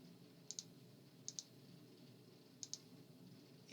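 A computer mouse clicks while roof rafters are modeled in Revit, sounding as three quick double-clicks, close and crisp, spaced apart over faint room noise.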